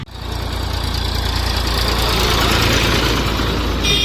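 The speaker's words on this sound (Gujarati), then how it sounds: "જો આ ટ્રેક્ટર ગયું" A loud, close diesel tractor engine rumbles steadily with a constant low throb, never fading, throughout the whole stretch.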